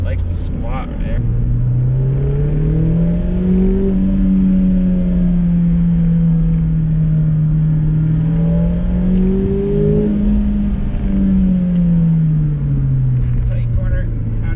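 A Mazda MX-5 engine drones from inside the car while driving, its pitch climbing and falling repeatedly as revs rise and drop through a downshift, loud and continuous for about fifteen seconds.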